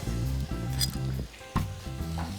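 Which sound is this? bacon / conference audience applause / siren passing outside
bacon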